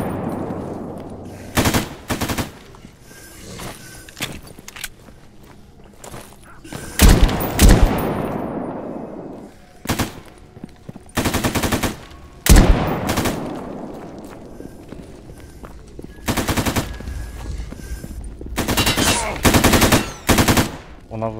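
Gunfire in a firefight in the video game Stalker GAMMA: loud bursts of automatic fire and single shots in irregular clusters, some echoing away, with quieter gaps between volleys and no speech.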